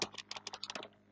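Rapid bursts of keystrokes on a computer keyboard while writing C code, a dozen or so close, crisp clicks in quick uneven rhythm, then a short quiet pause at the end.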